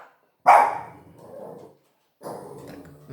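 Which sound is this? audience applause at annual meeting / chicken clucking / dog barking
dog barking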